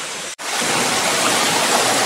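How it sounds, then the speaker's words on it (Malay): A small waterfall on the Ong river roars as a steady, close wash of rushing water, broken only by a brief dropout near the start. "Mini waterfall. Waterfall. Air terjun."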